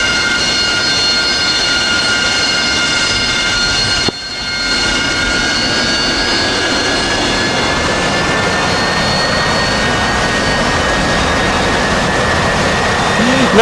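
F-18 jet engines at full power in the DCS World flight simulator, a loud continuous roar with a high whine that rises slowly in pitch, briefly dipping once before resuming, with no talk.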